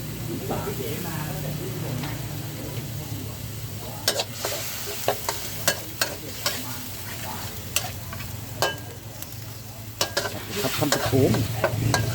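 Fish being stir-fried with red curry paste in a hot pan gives a steady sizzle with repeated sharp scraping clacks of a utensil against the pan, near and fairly loud throughout.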